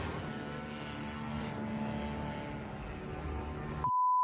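Attack drones flying over a tower during a night strike in Russia, a steady droning propeller buzz holding loud and constant throughout, ending with a sharp electronic beep.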